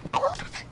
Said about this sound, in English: I have a small dog in my vehicle.